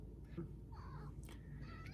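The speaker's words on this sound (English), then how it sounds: "meowing in the background" A cat meows faintly in the background a couple of times, short high calls over a low steady room hum.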